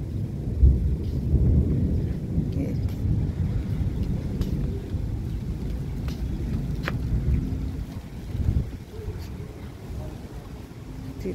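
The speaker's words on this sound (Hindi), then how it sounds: "बारिश भी शुरू हो गई है। आंधी भी, आवाज सुन रहे कितनी तेज आवाज" A heavy thunderstorm with strong wind and rain roars outdoors as a continuous low rumble and rushing gusts, with a few sharp crackles and brief swells.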